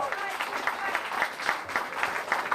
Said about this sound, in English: He needs another round of applause, very much so